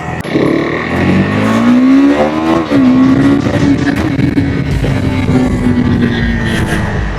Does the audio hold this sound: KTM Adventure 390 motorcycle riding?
yes